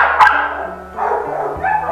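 A dog barks in a street, loud and close, with a few sharp yips spread over roughly two seconds, mixed with bright harmonic whining and some background noise.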